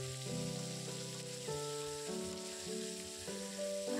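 A large fish fries in oil in a wok over a jute-stick fire, giving a steady, close sizzle under a continuous tonal background.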